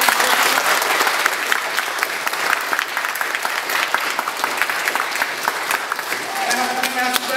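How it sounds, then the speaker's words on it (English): Loud, full audience applause at a karate and Shaolin exchange event honoring three masters, steady dense clapping with some voices and a tone near the end. "Give them a nice round of applause."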